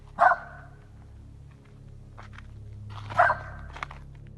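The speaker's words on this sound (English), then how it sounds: "The dog won't stop barking" A dog barks twice in a wooded setting, two short loud bursts a few seconds apart, with faint rustling and footsteps in between.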